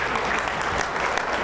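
Short burst of clapping from a dinner audience at a State of the City event, dense and steady for a moment.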